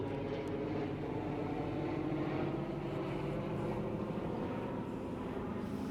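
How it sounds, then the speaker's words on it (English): A B-17 bomber flies over, heard as a steady, distant low droning rumble that holds evenly throughout with no talk. "I don't know why we have a B-17 that keeps flying over"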